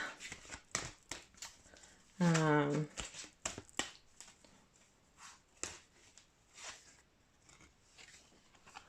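Tarot cards being shuffled and handled, giving a quick riffling burst in the middle amid scattered soft taps and flicks of cards, close and quiet, with no talking.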